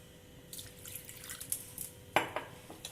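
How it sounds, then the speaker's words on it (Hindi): Water poured into paratha batter in a home kitchen, coming as a few soft splashing trickles and brief pours, close by and fairly quiet, with no talk. "और डालूंगी मैं पानी"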